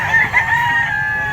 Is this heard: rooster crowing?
yes